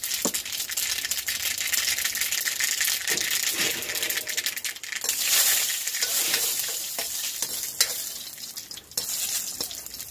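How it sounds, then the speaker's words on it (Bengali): Dry red chillies and white mustard seeds sizzling in hot oil for a village fish curry tempering, a loud continuous crackling fry with spoon scrapes and rattles against the pan, close up and steady throughout. "শুকনো লঙ্কা ফোড়ন দেবো।"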